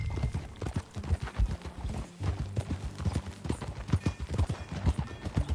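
Horse hooves clip-clop in Red Dead Redemption 2, a rapid, uneven stream of loud, close thuds from a riding horse, with a brief pause partway through.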